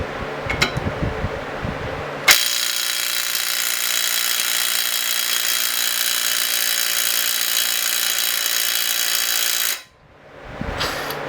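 A DeWalt cordless impact wrench strains on a bolt torqued to 75 foot-pounds. It gives a sustained loud buzzing whir for about seven seconds without breaking it loose, with brief handling clatter before and after.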